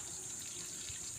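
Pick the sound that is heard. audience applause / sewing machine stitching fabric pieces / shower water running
shower water running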